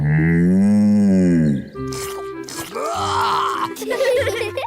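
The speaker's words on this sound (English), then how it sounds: "Bessie's a cow." A cartoon cow gives a long, loud, drawn-out moo that swells and falls over a second and a half, followed by quieter cartoon sound effects and clatter.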